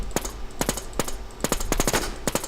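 Gunfire in the video game Infestation comes in rapid bursts of sharp shots, several clustered volleys with short gaps between them, loud and close with no talking.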